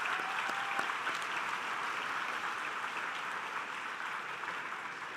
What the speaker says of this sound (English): Please give yourselves once again a round of applause.